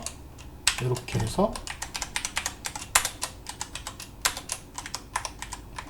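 Brisk typing on a computer keyboard, a dense run of sharp, close key clicks in irregular bursts including Tab and Enter presses, with a voice briefly speaking near the start.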